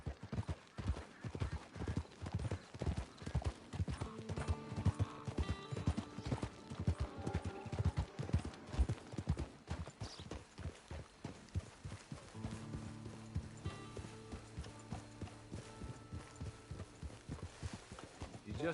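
Horse hooves clip-clop steadily in Red Dead Redemption 2, a rhythmic trotting beat running throughout with occasional snorts and a faint whinny, set under game music and spoken dialogue.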